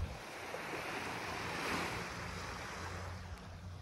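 Waves washing onto a small beach on Koh Pha Ngan, a steady soft surf hiss mixed with light wind buffeting the microphone, no voices.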